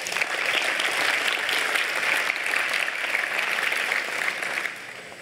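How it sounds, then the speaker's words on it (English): A large crowd at a business conference event gives sustained applause for the organizers and sponsors. The clapping is dense and steady for about five seconds, then begins to taper. "Let's give them a big round of applause."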